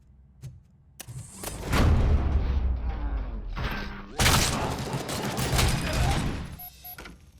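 Gunfire in the video game RoboCop Rogue City: bursts of heavy automatic fire with booming impacts, loud and dense in two long volleys after an initial shot, tapering into mechanical clatter.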